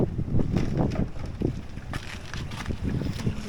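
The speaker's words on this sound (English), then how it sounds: "Oh, it's so windy today." Strong wind on a roadside stop between Nouakchott and the border, buffeting the microphone in loud, uneven gusts and rumbles that continue steadily for several seconds.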